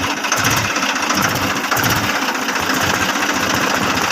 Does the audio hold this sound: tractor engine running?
yes